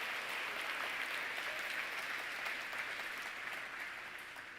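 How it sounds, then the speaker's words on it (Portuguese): A church congregation claps steadily for Jesus in a dense, sustained wash of applause that fades slightly toward the end, with no speech over it. "Dá uma salva de palmas a Jesus aí."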